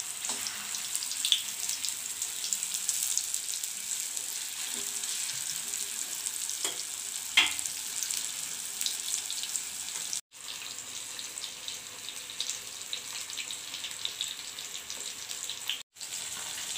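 Fish sizzles steadily in hot oil for a spicy Kerala-style fry, a continuous close crackle with occasional stirring or tap-water noises and two brief dropouts, no talking.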